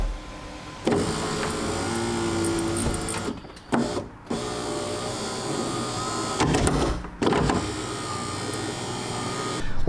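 BMW E46 power window regulator motor running on test, a loud steady electric whir that cuts out briefly twice and starts again.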